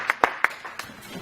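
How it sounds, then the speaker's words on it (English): A church congregation clapping during a service, heard as a few brief claps that fade out quickly, moderately close. "Clap for Jesus if you want to clap for Jesus."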